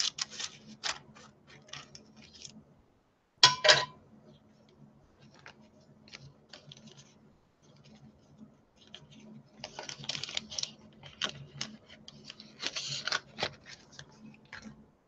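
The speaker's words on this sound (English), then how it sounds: "So I'm going to just cut a piece like this" Scissors snip through a piece of iridescent Angelina film while making clay fairy wings, a handful of quick, light cuts with crisp rustles. A steady low hum sits beneath, and a louder clack breaks in partway through.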